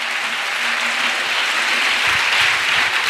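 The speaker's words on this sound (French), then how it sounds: "Let's clap for God." A church congregation breaks into loud, continuous applause, a dense patter of many hands clapping that stays steady throughout, with no talking over it.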